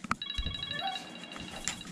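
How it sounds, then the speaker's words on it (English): A phone rings with an incoming call, a steady electronic ringtone of repeated high tones sounding through most of the moment at moderate volume, with faint background noise and a brief voice-like blip. "I'm getting a phone call"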